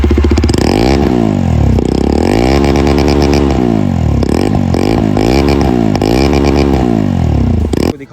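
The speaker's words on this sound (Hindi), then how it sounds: "इस बाइक की साउंड भाई विदाउट DB किलर जो स्टॉक्स एग्जॉस्ट आते हैं वो भी काफ़ी अच्छी है" A Jawa 42 Bobber motorcycle on its stock exhaust without a dB killer revs repeatedly, loud and close, in rising and falling bursts of deep, throaty engine roar.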